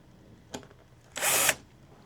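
A power drill boring a hole into a garage wall for a lag bolt to hang a shelving bracket: a single sharp tap, then one short, loud, whining burst of drilling.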